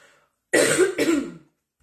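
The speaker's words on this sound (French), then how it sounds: "Faut que je tousse." A single harsh cough from someone with Covid, loud and close, in two quick bursts following a brief silence.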